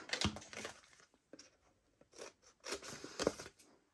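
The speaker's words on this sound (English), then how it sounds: "we're going to cut those squares off" Paper card being cut with scissors to remove squares for a cupcake treat box, giving scattered crisp snips and crinkling rustles in short bursts, close and fairly quiet, with pauses between cuts.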